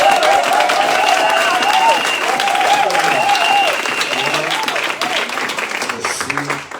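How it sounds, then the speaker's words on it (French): A church congregation applauds loudly and continuously, dense clapping filling the space while a singing voice carries over it, the applause thinning slightly toward the end. "On acclame très très fort."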